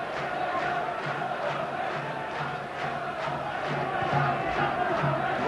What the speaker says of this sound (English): Morecambe's fans haven't seen a day like this in donkey's years. Trying to cheer their side home.